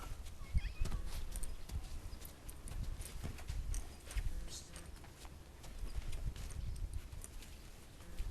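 Hooves of a horse named Sunka stepping and shuffling on the ground during ground work, irregular soft clops close by alongside faint rustling and low background noise.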